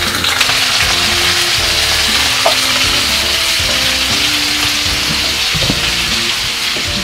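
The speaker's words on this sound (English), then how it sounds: "So Kazumi is frying the fish because she's really good at it." Fish frying in hot oil while Indonesian dishes are cooked, producing a loud, continuous sizzle with occasional soft knocks and scrapes from stirring, and no voices.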